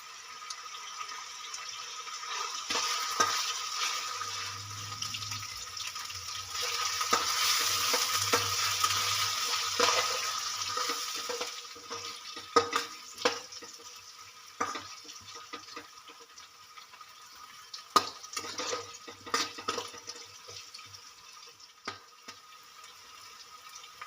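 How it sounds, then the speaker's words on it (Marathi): Tomatoes frying with golden-brown ginger paste in a pan, a continuous close sizzle with repeated stirring scrapes and clatters, no talking. "टोमॅटो व्यवस्थित तळलेले आहे"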